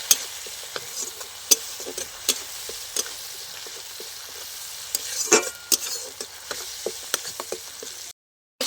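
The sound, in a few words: stirring mustard-poppy spice paste frying in pan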